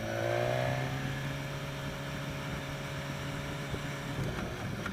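A 2016 BMW S1000XR motorcycle riding in road mode, its engine holding a steady drone with wind rushing past, rising briefly at the start and then settling at an even cruise.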